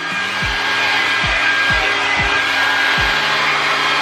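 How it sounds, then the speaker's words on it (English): A blow dryer runs steadily and close while hair is dried and curled, with a constant loud airy roar and faint repeated low knocks underneath. "what you're doing right now is curling your hair with your blow dryer"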